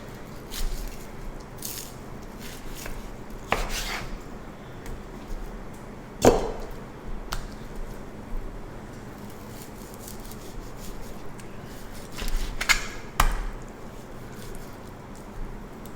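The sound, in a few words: knife cutting steaks into pieces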